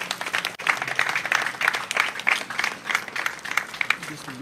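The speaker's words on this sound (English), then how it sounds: "Give a round of applause." Audience at a graduation ceremony for inmates at a skills training centre applauding an award: dense, lively clapping close by, rising and falling in bursts, with some crowd voices mixed in.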